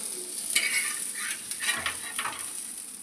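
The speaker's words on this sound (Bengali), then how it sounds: "লাল লাল করে মাছ ভাজা আমার হয়ে গেছে" Fish sizzles steadily in hot oil, crackling and spitting with a constant hiss, punctuated by a few scraping stirs in the pan.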